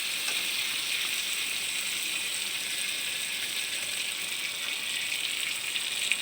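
Onions fry in a pan while being stirred, a dense bright continuous sizzle with faint rattling crackle, close and steady, with no voices.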